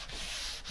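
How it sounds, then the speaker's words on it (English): A brief, close rasping rub of sandpaper on painted wood of a radiator cover, one steady scratchy stroke. "And I'm sanding all these smooth again."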